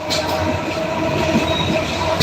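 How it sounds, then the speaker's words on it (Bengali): A passenger train running at about 70 to 80 km/h between Dhaka airport and Kamalapur gives a loud, steady rumble with a continuous rolling roar and no pauses. "ট্রেনের গতিসীমা আনুমানিক সত্তর থেকে আশি কিলোমিটার স্পিড হবে"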